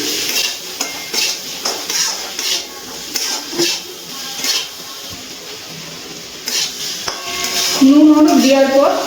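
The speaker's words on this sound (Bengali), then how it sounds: "হলুদ আর লবণ ভালো করে মিশিয়ে নিচ্ছি।" Spoon scrapes and clinks in a pan as turmeric and salt are stirred into frying beetroot, carrot and peas curry. The strokes are loud, close and rhythmic over a light sizzle, and a voice briefly rises toward the end.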